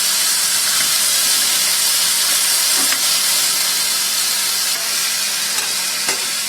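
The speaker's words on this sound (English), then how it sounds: "Added a little salt and pepper to the pan, helps keep spatter down and seasons the meat." Chicken seasoned with salt and pepper sautés in hot oil in a pan for chicken piccata, a loud, continuous sizzle and hiss close up with a few faint pops, no talking.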